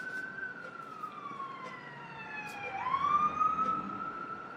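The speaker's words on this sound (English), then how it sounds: "That's a police car this time." A police car siren wails past at a distance, its rising and falling sweep clearly audible but moderately faint, shifting in pitch midway as it goes by, with no talking.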